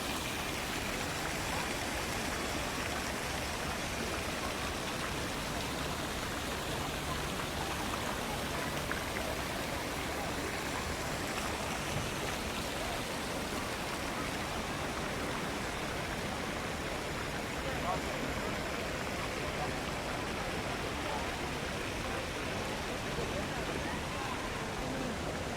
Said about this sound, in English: please quietly enjoy the sound of water and the surrounding sounds of the Tianyi Square fountains